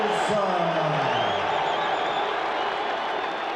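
A boxing arena crowd before the Tyson v Holmes heavyweight championship fight, a dense, loud roar of cheering and whooping that holds steady throughout, with an announcer's voice over the top.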